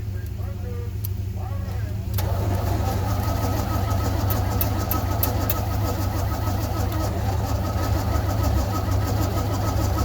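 A 1974 Chevrolet C10 truck engine turns over in a steady, continuous cranking drone from about two seconds on, loud and close, after a quieter stretch at the start with some background voice.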